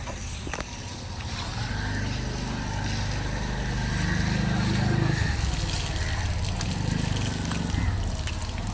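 Water sloshes and pours from a well bucket as coconuts are washed at a temple well, a continuous splashing wash over a low rumble, fairly steady and close throughout.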